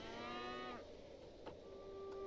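Cows mooing in the Songs of Syx video game: a single drawn-out low moo with a tonal, harmonic-rich call that drops off, followed by quieter faint lowing and soft background ambience.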